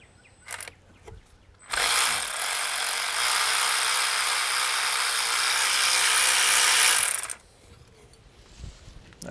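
Power tool spinning out a water pump bolt on a Buick Encore or Chevy Trax engine, one close, loud burst of high-pitched whirring lasting about six seconds, with quiet workshop sounds before and after.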